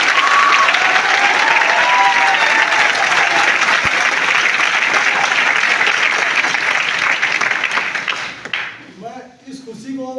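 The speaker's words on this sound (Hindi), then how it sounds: "एक बार जोरदार तालियां।" Loud crowd applause fills a celebratory meeting, dense and sustained for about eight seconds before fading out, after which a voice begins speaking.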